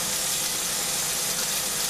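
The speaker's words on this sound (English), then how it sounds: "now I'm going to turn on the exhaust so it's going to get a little noisy here" A kitchen stove exhaust fan with a smoke deflector runs during a sirloin steak cooking demo, giving a loud, steady broadband whoosh with no pauses or voices.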